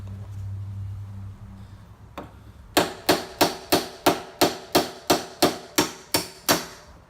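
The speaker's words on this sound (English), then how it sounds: "Need to tap these out." Metal punch struck with a hammer to drive rusted door hinge pins out of a Jeep Wrangler TJ or XJ door: eleven sharp, evenly spaced metallic taps in a steady rhythm, close and loud, after a few seconds of low rumbling background.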